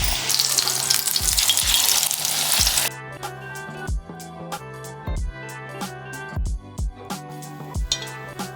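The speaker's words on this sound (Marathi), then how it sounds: "स्वच्छ धुवून घेतलेली पानं अशी बॅटरमध्ये घालून घ्यायची, मिश्रणामध्ये घालून घ्यायची आणि मस्तपैकी त्यांना तेलामध्ये" Keena leaf fritters coated in batter fry in hot oil, loud dense sizzling at first, then quieter crackling with scattered pops and the clink of a utensil stirring the pan.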